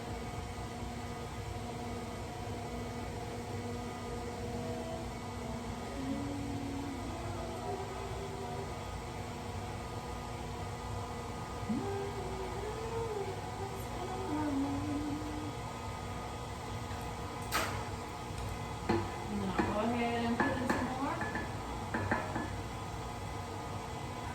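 Dark chocolate cookie dough being mixed in a bowl, a steady whirring drone with a faint tonal hum that runs throughout, growing slightly busier with light clatter near the end.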